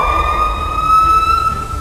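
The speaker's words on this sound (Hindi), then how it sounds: "इस पंछी की आवाज किसी इमरजेंसी सायरन्स के जैसी लगती है।" Piha bird gives a loud, sustained, pure whistled tone like an emergency siren, steady and unbroken through the short stretch over faint background.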